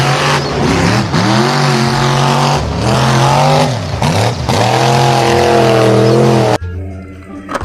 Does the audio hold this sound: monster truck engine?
yes